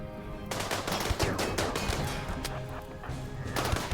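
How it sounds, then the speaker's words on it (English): Rapid gunfire in the video game RimWorld, dense overlapping shots and bursts crackling continuously for several seconds with no voices. "that was a lot of gunfire"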